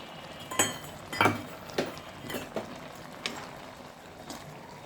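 A spoon clinks sharply against a pot several times as a ground roasted spice mix of radhuni, fenugreek, panch phoron and bay leaf goes into shukto, with quiet gaps between the taps and no talking.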